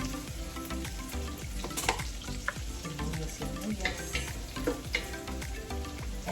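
Onions fry in a hot pan with a steady, dense sizzle and occasional stirring scrapes, loud and close with no talking.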